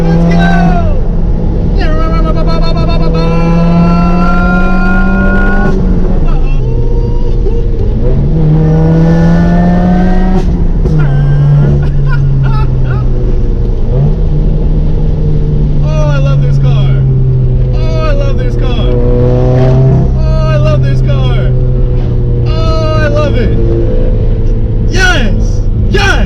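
Subaru WRX STI engine droning loudly from inside the car, revving up and dropping through downshifts in repeated rises and falls, with someone talking over it.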